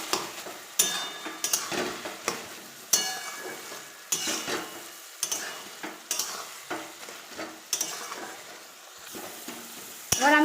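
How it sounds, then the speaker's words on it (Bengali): Potatoes cook in oil with a little water while a spatula stirs them, bright close scrapes and taps against the pan over a soft sizzle, coming in irregular strokes with no talking. "যেহেতু আলুগুলোকে আমি আগে তেলে নেড়ে নিয়েছি, সেদ্ধ হয়ে আসছে, ওই জন্য আমি কম করে জল দিয়েছি। এবার ভালোভাবে নেড়ে নেব।"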